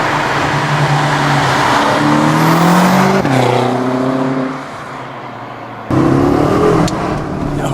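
A 2016 BMW M5 with a Dinan tune accelerates hard. The close, loud engine climbs in pitch through the revs, breaks off at a gear change, then roars again.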